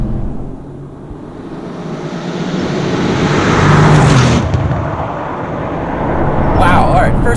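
A Mercedes-AMG car's engine accelerates hard through the gears, the roar building to a peak, easing briefly, then swelling again, loud and near.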